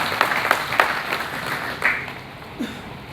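Attendees at a district party committee meeting in Indore clap for themselves in a short burst of scattered applause that thins out to a few last claps, with a brief voice near the end.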